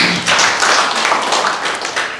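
Church congregation clapping their hands after a Good Friday sermon, a brief burst of many people clapping together, fairly loud and dense, fading slightly toward the end.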